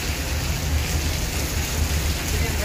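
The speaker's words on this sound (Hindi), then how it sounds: "मानसून की बहुत शदीद बारिशें चल रही हैं" Heavy monsoon rain pours down in a dense, unbroken hiss that stays steady throughout, close and even, with no voices.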